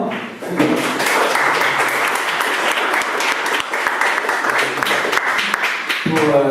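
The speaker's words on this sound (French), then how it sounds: "je vous invite à applaudir." Loud, dense audience applause at a French business presentation on B2B web performance, sustained clapping filling the room for several seconds, with a voice briefly audible near the end.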